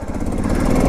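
A 1988 Aprilia 600 Tuareg Wind motorcycle engine drones close and loud, a steady throbbing rumble that rises slightly toward the end, with no talk.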